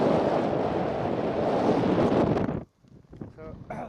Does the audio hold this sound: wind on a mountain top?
yes